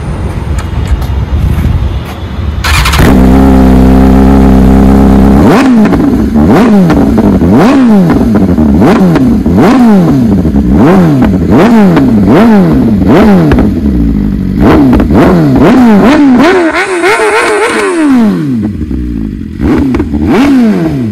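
Motorcycle with an aftermarket exhaust, started and then revved repeatedly, loud and close, each blip rising and falling in pitch in a quick rhythmic series, with a few deeper, longer revs toward the end.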